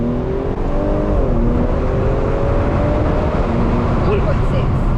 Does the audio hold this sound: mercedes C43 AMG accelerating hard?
yes